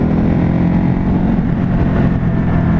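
A Ducati Hypermotard 950 motorcycle engine in sport mode runs loud and steady, a dense low rumble with a rough, throaty edge held for a few seconds.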